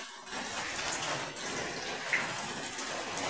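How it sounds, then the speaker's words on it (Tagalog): Steady rain falls without pause on a soaked street, a dense, even hiss of drops hitting surfaces, with no voices. "tuloy-tuloy ang ulan mga kadyang."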